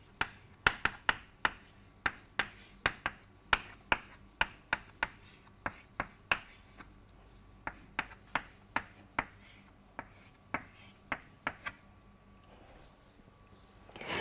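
Chalk or marker writing out equations on a board, a quick run of sharp tapping strokes and short scratches in an uneven rhythm, close and alone, slowing and thinning toward the end.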